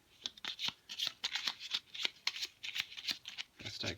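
Board game weakness cards being shuffled by hand, a quick, crisp riffling and flicking of card stock in repeated bursts, close and fairly quiet.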